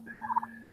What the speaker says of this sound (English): We got happy turkeys.